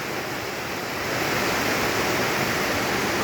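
Rainwater runs and pours steadily after a downpour, a continuous broadband rush like a small stream or gutter outflow, fairly loud and close, rising slightly partway through with no voices.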